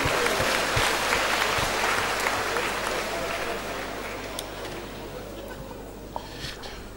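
Audience applause at a church gathering, many hands clapping in a dense wash that starts loud and gradually thins and fades over several seconds, with a low steady hum beneath.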